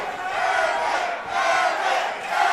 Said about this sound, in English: This crowd is going nuts for Evan Elder.